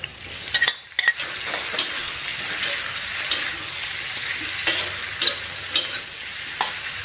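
Fish strips stir-fried with flower chives in a hot pan give a steady loud sizzle with scraping stir strokes and a few sharper clatters, with no talking.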